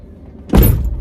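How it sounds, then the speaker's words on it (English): A van's sliding door slams shut with a deep, solid thud after a moment of quiet, followed by a brief low rumble. "Moment of truth. Will the door close?"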